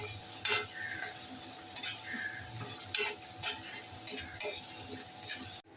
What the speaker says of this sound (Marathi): थोडासा हिरवी बारीक चिरलेला कांदा घालायचा आहे छान कांदा परतून घेऊया